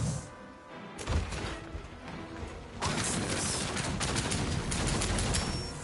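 Sci-fi weapon fire from the game Outcast: A New Beginning rattles in dense, continuous bursts, growing louder and busier partway through, with no voices over it.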